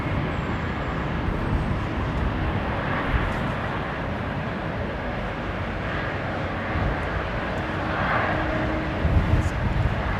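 A Thai Airways Boeing 777 jet at London Heathrow makes a broad, steady roar of engine noise that holds level for the whole stretch, rumbling and continuous with faint distant traffic beneath.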